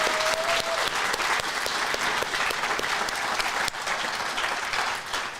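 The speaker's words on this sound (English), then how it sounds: "let's give them a round of applause" An audience at a steel-casting awards ceremony claps in sustained, dense applause that stays loud and even throughout, with a brief voice at the start.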